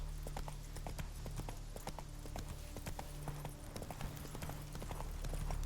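Horse hooves clip-clop at a steady trot in The Witcher 3 video game, a quick even rhythm of hoofbeats running throughout over a low, constant ambient hum.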